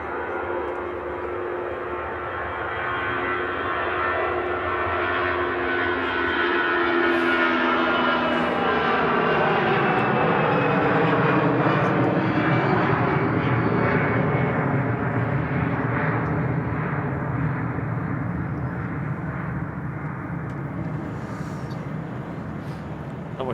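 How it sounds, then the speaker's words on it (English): Passenger jets, an EasyJet arriving from Paris and an Iberia Express, land and roll out on a runway, a loud broad engine roar swelling to a peak and slowly easing as the aircraft decelerate, with no talk. "And an EasyJet next to land in from Paris. As the Iberia Express rolls on the runway."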